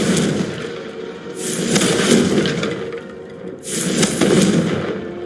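Two fiery Confringo spell blasts in Hogwarts Legacy, each a loud crackling burst with a sharp onset and a roaring tail. The bursts come about two seconds apart.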